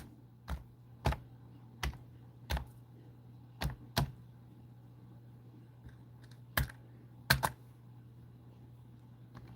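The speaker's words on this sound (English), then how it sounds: "I got to type mine in here so far." Typing on a computer keyboard in a home garage setting: a dozen or so sparse, uneven key clicks, fairly close and moderately loud, over a steady low hum with no talking.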